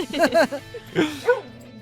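A pet dog named Arya gives a few short barks and yips in quick succession, close by, mixed in with a person talking in a casual home setting.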